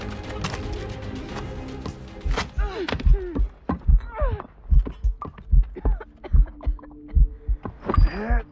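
Heavy, slow heartbeat thumps in a video game cutscene from Assassin's Creed Rogue, a poisoned character's pulse pounding in a steady double rhythm, loud and close, after some earlier muffled noise.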